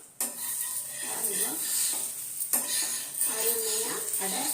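Navadhanya adai dosa cooks in oil on a hot pan and gets flipped: a steady close sizzle with two sharp spatula-and-pan clatters, one near the start and one midway.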